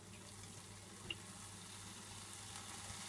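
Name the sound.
water being added to curry in the pan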